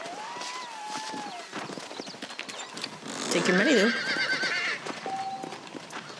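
A horse in the Red Dead Redemption video game clip-clops along and lets out a loud whinny midway, set against game ambience and music tones, with someone talking over part of it.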